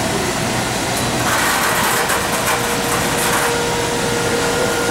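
A stainless steel finger conveyor on a wave soldering machine in a circuit board factory, running as a loud, steady mechanical drone with a continuous broadband hiss over a low rumble.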